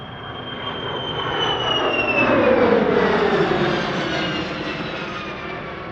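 A Kawasaki military transport jet, successor to the C-1, passes at an airshow, its engine roar swelling from a distance to a loud peak and then fading as it flies on, with no talk.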